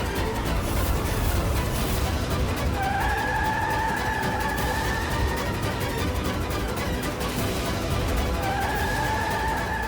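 A car speeds in a dramatic chase scene, its engine roaring loudly and continuously, while tires squeal in two drawn-out skids that rise and hold.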